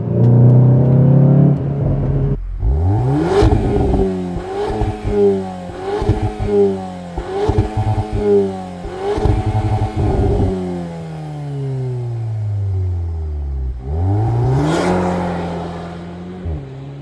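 A 2025 Cupra Formentor VZ with an Akrapovič exhaust revs hard in a quick series of sharp throttle blips, then settles into one long rising and falling rev before a final burst, loud and close with no talking.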